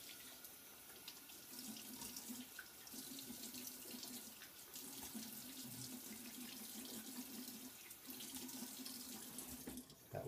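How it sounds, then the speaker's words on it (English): Tap water runs steadily into a sink while a face is rinsed with hot and then cold water during a shave, a close hiss with rhythmic interruptions as hands pass through the stream. "So I'm going to rinse off my face here with hot and then cold water."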